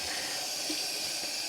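Dyed yarn, blue overdyed with green, is rinsed under a running tap, giving a steady close rush and hiss of water that continues evenly without a break.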